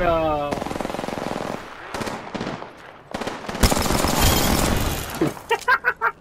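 Rapid automatic bursts from a P20 gun in a video game, loud and near, with several volleys separated by brief gaps and a few heavier single shots at the end; a voice talks faintly at the start.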